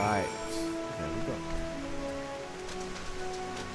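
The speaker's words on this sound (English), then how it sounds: "This waterfall is really loud." Loud rushing waterfall in the video game Final Fantasy XIV Endwalker, a steady broad roar heard alongside game music, with a voice speaking over part of it.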